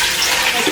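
Water poured from a jug into a pan while making sweet pickled beetroot, a brief, loud, close rush of liquid.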